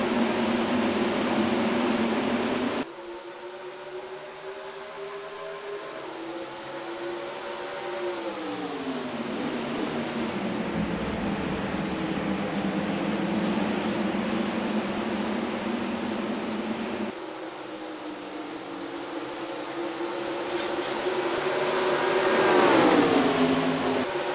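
Simulated NASCAR race car engines in NASCAR Racing 2003 at Watkins Glen, a continuous loud drone of high revving engines rising and falling through gear changes, with a distinct cut partway through and a swelling whine near the end.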